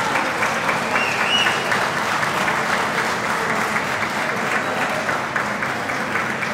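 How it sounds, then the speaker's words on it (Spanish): Audience at a live tribute concert in Chile applauding steadily and loudly, a dense wash of clapping from a crowd filling the whole stretch. "Por favor, yo les quiero pedir un fuerte aplauso."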